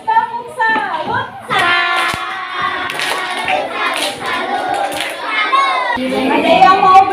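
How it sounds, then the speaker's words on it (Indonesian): Classroom children give a rhythmic clapping salute together, bursts of hand claps mixed with children's voices and chatter in a lively room. "Kalau betul kita kasih tepuk salut"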